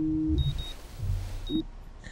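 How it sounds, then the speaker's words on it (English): Alarm clock in the video game Life is Strange giving two short electronic beeps about a second apart, clear and close, with a low tone underneath. "stupid alarm"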